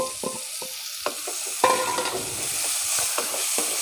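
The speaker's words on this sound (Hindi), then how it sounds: "अब हम इसमें यही अनियनज़ ऐड करेंगे और इसको हम पाँच छः मिनट सॉटे करेंगे" Onions sautéing in a pan for Kashmiri-style chicken kanti, a soft sizzle punctuated by several sharp spoon knocks and scrapes against the pan, close and clear.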